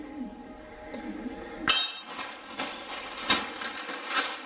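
Heavy-duty grade 8.8 steel bolts for a Titan Fitness X3 home gym rack clink and tap together as they are handled, a few sharp metallic ticks rising from a quiet, close background.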